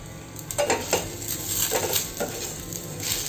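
Light metallic scraping and clinking of a utensil stirring turmeric, coriander and chili powders in a pan, a few soft irregular strokes with a faint sizzle underneath, no talking.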